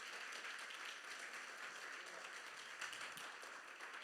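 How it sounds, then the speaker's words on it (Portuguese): Church congregation applause during a sermon, a faint, distant, steady wash of clapping that continues evenly for a few seconds. "Dá uma salva de palmas a Deus por isso"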